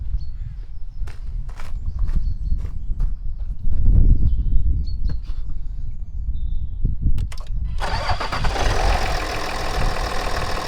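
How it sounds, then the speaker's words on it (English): A car engine cranks during a battery cranking test, giving a rough, uneven churning that catches and fires into a louder, steady engine run in the last few seconds. "It tells us to start the engine,"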